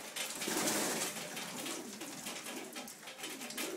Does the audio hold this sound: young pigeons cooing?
yes